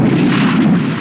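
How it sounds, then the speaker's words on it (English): A huge cartoon cannon fires, giving a sustained, loud, low booming roar that rumbles steadily for about a second with no voices over it. "That was a country destroying cannon."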